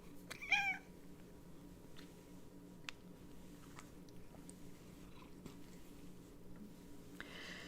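A domestic cat gives a single short meow early on, fairly close and clear, then only quiet room noise and faint chewing-like ticks follow, with no talking.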